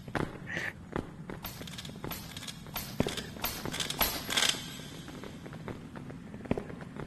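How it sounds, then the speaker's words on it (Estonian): Footsteps in the video game Animal Company, a run of fairly quick, close steps with sharp transient thuds over a busy background of game noise. "Ma kuulen samme."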